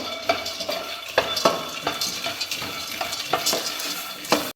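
Peanuts are dry roasted in a pan over low heat while being stirred, with repeated rattling scrapes and clinks of a utensil against metal in an uneven rhythm, close and moderately loud, no voices.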